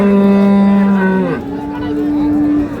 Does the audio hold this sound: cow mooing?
yes